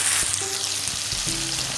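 Ginger and garlic hit hot oil in a pan while making aloo anday pharji, a potato and egg dish, giving a close, steady crackling sizzle with a few soft pops and no talking.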